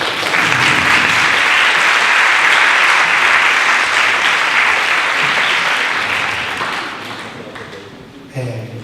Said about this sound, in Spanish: un forte aplauso a Lois Guillán.